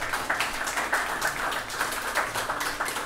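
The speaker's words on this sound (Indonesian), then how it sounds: "kita berikan tepuk tangan untuk Tuhan" A church congregation applauds together, a dense and fairly even patter of many hands clapping at close to moderate distance for a few seconds, with no voices over it.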